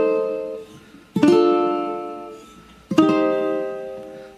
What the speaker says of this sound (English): So the intro has 4 chords in the chord progression: